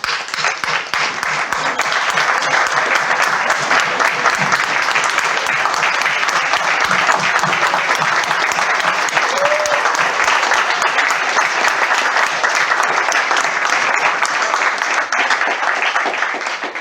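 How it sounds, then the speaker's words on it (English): A large crowd applauds steadily, a dense continuous wash of clapping that holds loud throughout before tapering slightly at the end. "please stand up for a round of applause"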